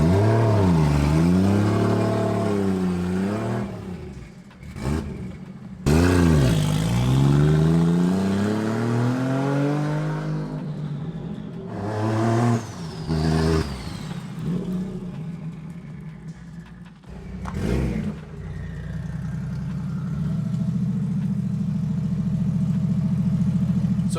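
A BMW E36 with a swapped 1JZ engine does a burnout with the handbrake on, its engine revving loudly in repeated rising and falling surges separated by brief dips.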